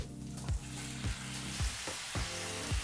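Sliced radish frying with onions in a pan for a lentil radish saaru gives a steady close sizzle, broken by a spatula scraping and stirring about twice a second, with no talk.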